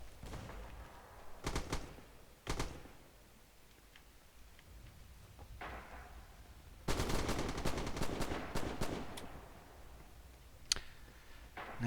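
Gunfire in a multiplayer shooter video game match: a few scattered single shots early on, then a dense burst of rapid automatic fire, with sharp distant cracks over a faint background and no talking.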